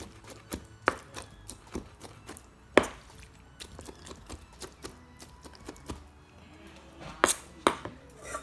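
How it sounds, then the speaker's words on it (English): A knife chops chives roughly on a cutting board for wontons, making a steady series of sharp, close knocks at an irregular pace, with a few louder strikes scattered throughout. "just roughly chop it"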